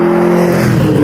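A Hennessey Venom F5 hypercar engine running loud and steady right after its ignition button is pressed, a deep, even drone with no talk over it.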